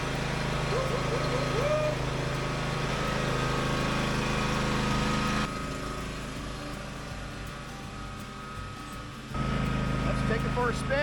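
A John Deere X350 lawn tractor engine runs steadily after a full service with new oil, spark plugs, and fuel and air filters. The low rumble holds throughout, dips slightly in the middle, and a voice talks over it.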